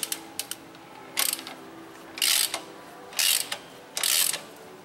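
A hand ratchet clicks in short bursts while a bolt is tightened on a motorcycle center stand fitted to a Yamaha Tenere 250, several quick ratcheting strokes separated by brief pauses, close and clear.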